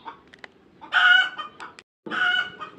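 A hen that has just laid eggs clucks and squawks in two loud bursts close by, with softer scattered clucks and quiet gaps between them.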